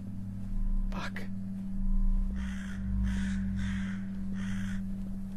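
Crow in the horror game Edge of Dawn letting out a run of four or five harsh caws after a brief sharp sound, over a low droning game ambience and faint breathy voice.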